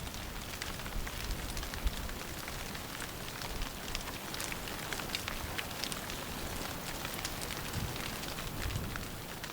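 Steady rain pattering on a surface in a Vosges stork valley, a dense continuous hiss of drops with no voices, evenly loud throughout.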